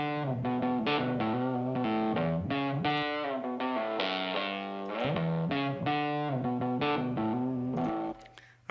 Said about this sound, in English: For this one, I'm using a Telecaster, which is a type of guitar.